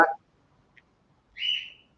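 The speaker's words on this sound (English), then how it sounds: "Can you hear birds?" Birds sing outside a cabin: a faint, tiny chirp comes first, then a clearer, longer high call about half a second long, heard alone against near silence.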